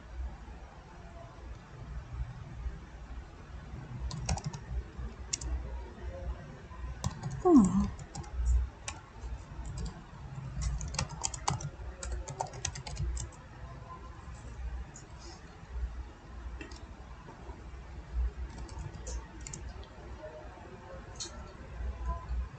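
Light clicking keystrokes on a computer keyboard as a git branch name is typed, scattered and fairly soft under a voice speaking throughout.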